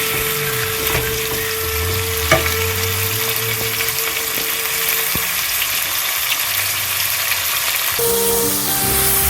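Onions sautéing in hot oil in a pan for jambalaya, a steady close sizzle and crackle running throughout, with a few faint clinks and a brief water-like rush near the end.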